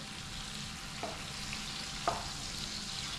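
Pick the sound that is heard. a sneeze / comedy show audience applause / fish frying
fish frying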